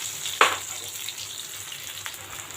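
Slices of elephant foot yam fry in oil over a low flame, giving a constant soft sizzle with one sharp clack early and a faint tap later.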